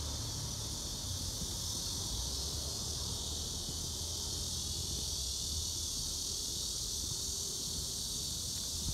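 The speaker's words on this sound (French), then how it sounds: "Écoutez le bruit des cigales." Cicadas sing in a dense, unbroken high-pitched drone that holds steady and fairly loud for the whole stretch, with no voices over it.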